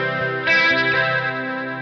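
Electric guitar through a 70s chorus modulation effect on a Line 6 Helix: a single sustained, warbling chord that swells slightly and then rings on steadily, loud and close with no voices.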